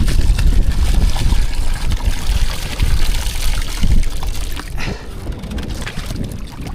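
Water is poured over a mackerel tuna for washing on a small fishing boat at night, a loud splashing gush that pulses unevenly, then eases into lighter trickling, close by.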